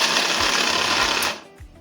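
An Atomberg Zenova mixer grinder chopping food, a loud dense whirring roar that holds steady for over a second and then cuts off abruptly, leaving a faint quieter tail.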